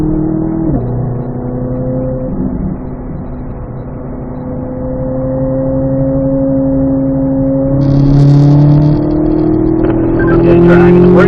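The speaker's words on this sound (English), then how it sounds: "Let's unwind, roll into the throttle," A Chevrolet C8 Corvette Z06 on a racetrack pulls hard in fourth gear, its engine note climbing steadily in a loud, close drone from inside the cabin, ending in a rising higher-pitched whine.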